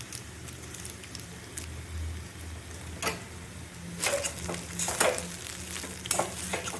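Spice masala and magic cubes being stirred in a frying pan, a steady low sizzle with scattered scraping clicks from the spoon, growing busier and louder toward the end.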